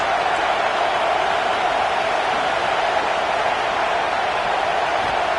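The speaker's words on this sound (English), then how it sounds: "This crowd on hand trying to make sure the Gators don't back down on 3rd down" A stadium crowd at a college football game between the Florida Gators and Texas A&M roars on third down, a steady, dense wall of noise held at even loudness throughout with no individual voices standing out.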